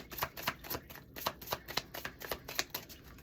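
Tarot cards being shuffled in quick, rhythmic riffles of crisp papery flicks, close and fairly soft, with no talking.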